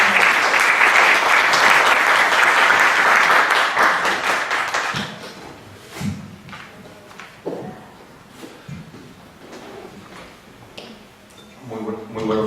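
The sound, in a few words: audience applause for conference speaker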